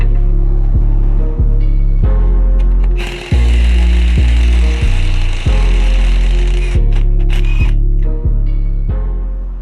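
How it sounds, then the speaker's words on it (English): An impact power tool loosens axle bolts on a Volkswagen Passat B8, firing a string of loud, close bursts, each a rapid hammering whir that stops abruptly, with short pauses between them. "Now we need to unbolt the axles."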